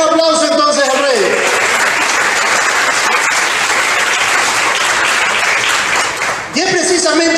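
Loud, enthusiastic applause fills a church as the congregation claps for several seconds, with a voice speaking just before and right after.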